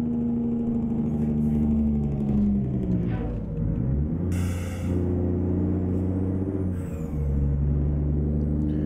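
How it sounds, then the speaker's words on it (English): Caterpillar truck engine in American Truck Simulator rumbling and revving as it shifts through gears, with short hissing bursts like a blow-off valve between shifts, steady and close. "Just rowing through them caterpillar gears. A little blow-off valve."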